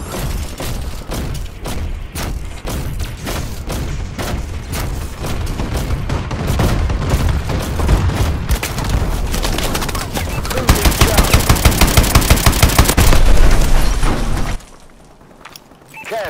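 Call of Duty: Advanced Warfare battle with a friendly bombing run: dense, continuous bursts of gunfire and heavy explosions, rapid rattling fire swelling near the end before cutting to a quieter tail.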